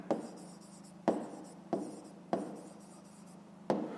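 A pen writes by hand on paper, each stroke a sharp tap followed by a short scratching rub, repeating in an uneven rhythm, close and fairly quiet.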